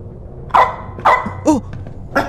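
A dog barks in a video game, four sharp barks spaced about half a second apart, fairly close and loud, with no talking.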